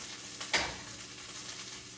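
Leeks cooking in a skillet, a steady close sizzle broken by a sharp scrape of stirring early on, then a constant hiss.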